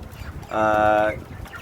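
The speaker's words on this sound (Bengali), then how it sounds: "দেখেন ব্ল্যাক অস্ট্রেলাপ মুরগিগুলো আলহামদুলিল্লাহ তারা আজকে প্রায় দুই মাস" Black Australorp chickens about two months old give a single short, tonal call close by, with background noise before and after it.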